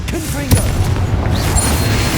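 A Confringo fire-blast spell bursting in Hogwarts Legacy, a sharp booming impact followed by a sustained rumbling roar, loud and close, with a brief voiced cry at the start.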